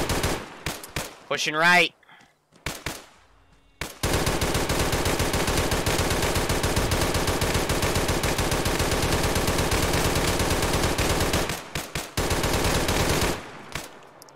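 Sustained automatic gunfire in the Arma 3 military video game, a loud continuous rattle lasting about ten seconds, with scattered shots and a short spoken line before it starts.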